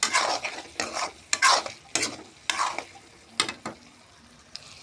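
Potatoes frying in spice masala for a spicy chicken curry are stirred in a pan, a spatula scraping in repeated rhythmic strokes over an ongoing oily sizzle.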